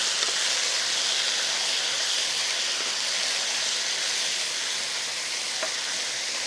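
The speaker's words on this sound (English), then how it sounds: "I'm just going to give it a stir and let it sear on the other side" Chili garlic chicken pieces sear in a hot pan with a steady, even sizzle and hiss. The sizzling is moderately loud, continuous and unbroken, with no talking.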